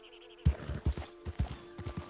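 Horse hooves clip-clop at a walk in Red Dead Redemption 2, a steady run of soft, close thuds with faint ambient hum beneath.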